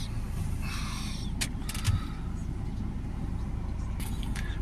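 A diesel vehicle with a differential pressure sensor fault and recent forced regenerations idles steadily with a constant low rumble at close range, brief clanks and faint voices in the background.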